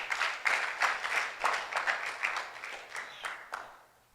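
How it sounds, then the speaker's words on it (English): An audience at a summit applauds a speaker, a fairly faint, distant patter of clapping that fades out toward the end. "another clap for Daniel."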